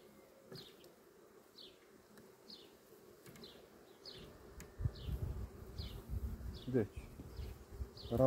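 Honeybees buzz in a steady low drone around an open hive, joined by soft knocks and frame-handling noises that grow louder toward the end.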